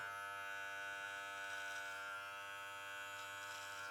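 An electric hair trimmer cuts along a beard line with a steady, close, high-pitched buzzing hum that holds unbroken throughout.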